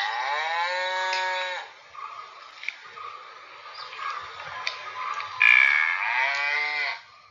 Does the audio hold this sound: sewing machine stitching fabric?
no